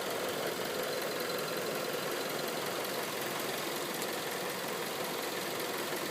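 Idling 2012 Mazda 6 with a 2.5-liter, 170-horsepower dual overhead cam, 16-valve engine with variable valve timing, heard under the hood as a steady, even hum with a faint ticking texture and no voices.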